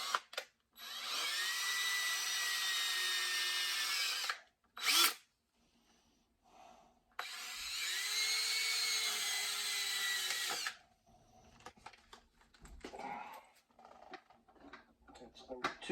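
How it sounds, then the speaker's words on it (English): A power drill bores larger holes through a Porsche Boxster engine part during rear main seal work. It comes as two long, steady whining runs of about four seconds each, separated by short pauses and handling noises. "to sit around and watch somebody drill"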